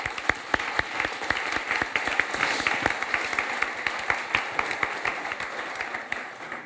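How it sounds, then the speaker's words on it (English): Audience at a dinner summit event applauding the panelists, a steady run of clapping with a few sharp, close claps standing out over the crowd. "a round of applause for our panelists"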